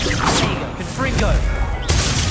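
A Confringo blasting spell bursts in Hogwarts Legacy, a sharp crackling explosion with a booming low thud, followed by a second burst near the end, all mixed with game noise and a voice talking over it.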